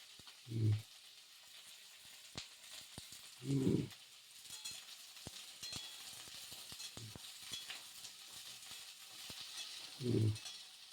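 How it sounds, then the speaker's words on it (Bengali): Cauliflower frying in a pan with a low continuous sizzle and light stirring clicks, interrupted three times by louder, thudding scrapes of the spatula turning the florets. "একটু টাইম নিয়ে ফুলকপিটা লাল লাল করে ভাজতে হবে"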